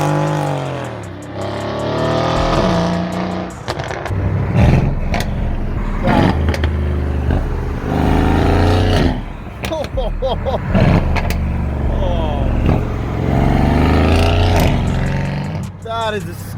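Retuned Mercedes C63 AMG coupe exhaust revving with a loud, rumbling burble, the engine rising and falling repeatedly and crackling between revs, while people talk over it throughout.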